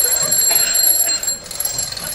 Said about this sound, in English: What's the matter with your blooming alarm?